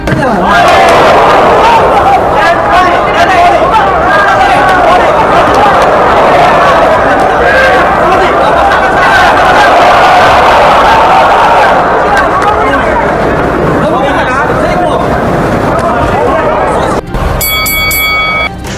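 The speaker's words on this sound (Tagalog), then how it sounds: "Sigawan ng mga fans nang tumama ang kombinasyon ng kanilang pambatong si Tyson" Boxing fans at a live bout roar and shout continuously in a loud, dense crowd din that holds steady for the whole stretch, with a brief dip and a short electronic-sounding burst near the end.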